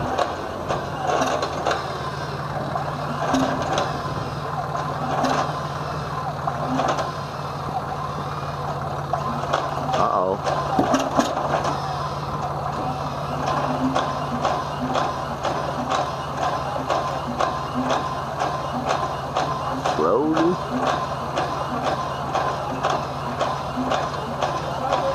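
An M47 army tank's 12-cylinder engine on a cold start at an oldtimer market in Bockhorn, with a steady low mechanical hum under rapid rhythmic clicking and ratcheting that continues throughout, and no talking.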